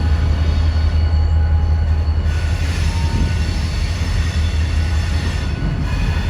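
A model freight train on a layout rumbles steadily along its track with a constant low hum and a faint metallic squeal from the wheels, close by and fairly loud.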